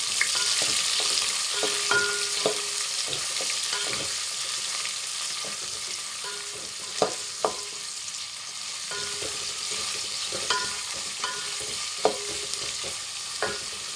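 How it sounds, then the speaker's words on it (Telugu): Green chillies and onions frying with curry leaves in hot oil for a bagara rice, a bright continuous sizzle broken by scattered spoon scrapes and taps against the pan, close and steady with no talking. "కరివేపాకు అంతా వేగిపోయింది కదా ఇప్పుడు మూడు కట్ చేసుకున్న గ్రీన్ చిల్లీ కట్ చేసుకున్న ఆనియన్స్ చేసుకున్నాను"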